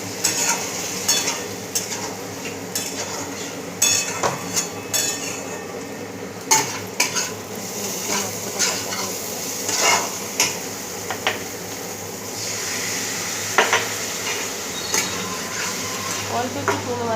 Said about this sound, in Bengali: অল্প জল দিয়ে কষাবো। ঢ্যাঁড়সগুলো গোটা গোটা থাকবে, আলুগুলোও গোটা গোটা থাকবে।